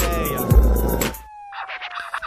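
Police siren wail in a song, a long descending tone running under a heavy thumping beat, then continuing more exposed as the backing thins with choppy stabs.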